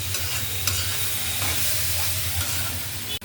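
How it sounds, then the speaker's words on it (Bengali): Turmeric and chili powders frying in hot oil while being stirred in a pan, a steady loud sizzle with scraping strokes running throughout, close up and with no talk. "হলুদ, মরিচ। তেলের উপরে ভাজা নিতেছি।"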